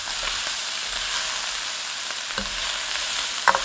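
Shrimp and basil stir fry tossed in a hot pan with the heat just switched off: a steady, close sizzle runs throughout, broken by a few soft clinks and scrapes of the pan.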